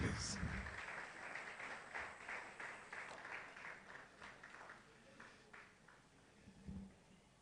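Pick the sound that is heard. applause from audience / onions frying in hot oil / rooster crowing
applause from audience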